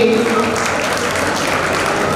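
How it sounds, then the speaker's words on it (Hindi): An audience claps at a community religious ceremony, with dense, steady applause filling the hall and a voice heard briefly at the start. "बहुत बहुत ताली बजा करके उनके लिए अनुमोदना करें"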